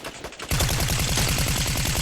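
Rapid automatic gunfire from a Fortnite match, a loud continuous stream of evenly spaced shots that starts abruptly after a half-second of quieter, sparser firing.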